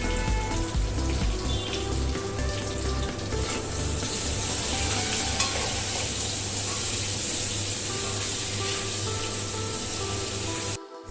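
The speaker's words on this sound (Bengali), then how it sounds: "এইবারে আমি বেগুনগুলোকে একটু ভেজে নেব।" Eggplant pieces with a little salt and turmeric fry in hot oil, giving a dense, continuous sizzle with crackling spits that stays loud and steady throughout, close to the pan.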